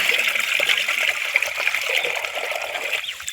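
Water runs steadily into a village canal to fill it, a continuous close hiss and trickle with no pause.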